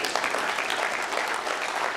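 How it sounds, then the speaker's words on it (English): A crowd applauds newly promoted police officers at a city address, steady dense clapping filling the whole stretch at close range with no pauses. "Give them a round of applause"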